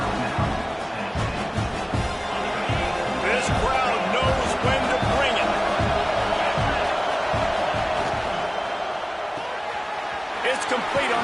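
Stadium crowd in the College Football 26 video game, a dense continuous roar of cheering with scattered thumps and claps, loud and sustained throughout, under a commentator's voice.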